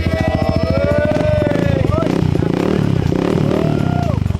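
A Yamaha XMAX scooter fitted with a Contrabida Power Pipe exhaust idles with a loud, rapid pulsing thump and then revs, close by, with someone talking over the engine.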